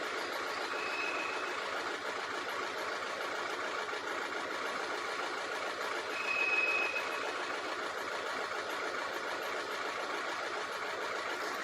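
A steady mechanical engine drone with a pulsing, slightly irregular low rumble from a misfiring engine with injector trouble, running continuously at moderate loudness, with a faint brief tone now and then.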